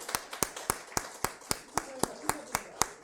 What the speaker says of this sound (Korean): 협력을, 박수 한번 쳐주세요.